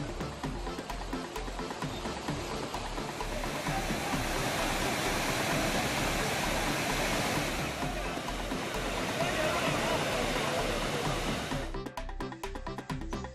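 The Hogenakkal waterfall roars with heavy flow after rain, a dense, constant rush of falling water that fills the whole span before cutting off abruptly near the end.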